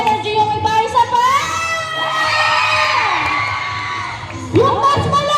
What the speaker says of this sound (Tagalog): parinig naman ang isang hiyawan!